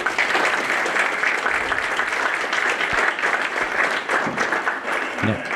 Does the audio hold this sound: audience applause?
yes